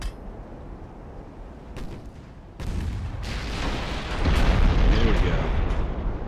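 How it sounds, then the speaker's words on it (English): Battleship big guns firing in the Ultimate Admiral naval strategy game, heavy booming salvos that build into a loud sustained rumble, with someone briefly speaking over them. "as he gets those big guns firing"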